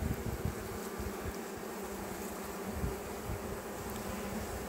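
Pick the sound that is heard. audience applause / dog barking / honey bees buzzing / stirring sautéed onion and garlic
honey bees buzzing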